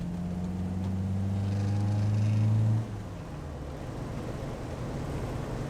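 A 1968 MG B GT classic car drives along steadily, its engine a loud continuous drone with a pitch shift near the three-second mark as it changes speed, then settling into road rumble.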